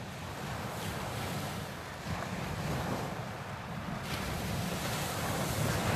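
Wind blowing at Eastney Beach, a steady roaring rush mixed with surf noise that swells slightly, continuous and close, with no voices.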